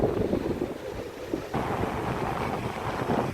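Wind buffets the microphone at a Black Sea shore while waves wash in, a continuous loud roar of surf and gusts with no voices.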